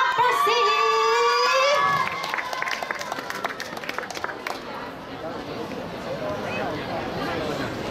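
Audience cheering and shouting for a school dance club's opening performance at a youth stage event, loud crowd noise swelling behind a brief amplified announcement, then a dense roar of voices and scattered claps continuing throughout.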